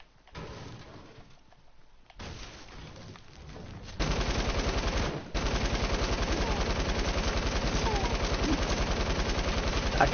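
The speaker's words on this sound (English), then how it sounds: "I can hear people shooting" Video game gunfire, with a rapid, sustained burst of automatic LMG fire, loud and close, rattling in a steady rhythm after quieter ambient sounds and a brief gap.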